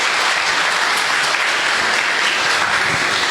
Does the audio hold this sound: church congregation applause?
yes